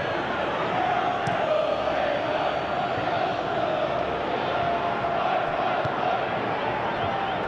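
A football stadium crowd in the PES 2021 video game during a Chelsea vs Liverpool Champions League match roars as a steady, dense wall of noise, with commentary voices mixed underneath.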